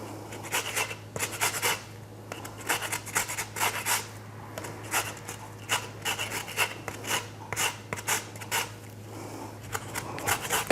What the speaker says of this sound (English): Zest of my lemons.